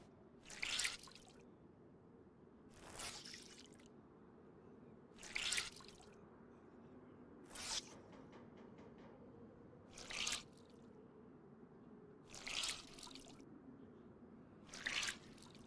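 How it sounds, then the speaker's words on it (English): In a video game, water drips from wrung-out clothes in a slow, regular series of seven clear splatting drops spaced a couple of seconds apart, over a soft ambient bed. "Guess we need to wring out our clothes again."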